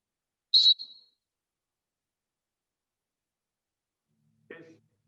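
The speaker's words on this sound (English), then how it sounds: "So people heard the whistle" One short, sharp blast of a basketball referee's whistle, followed by silence and then a brief bit of voice near the end.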